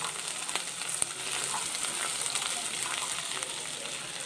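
Masala sautéing in a pan for paneer butter masala makes a soft, even sizzle that hisses steadily and fairly quietly throughout, alone with no talking.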